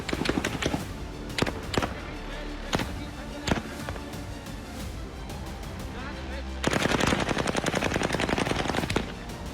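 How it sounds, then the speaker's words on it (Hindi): Scattered loud gunshots in Balochistan, Pakistan, crack out one after another, then erupt into sustained rapid automatic fire, with voices mixed in. "बलोचिस्तान में बेगुनाह बलोचों पर गोलियां बरसाई जा रही हैं"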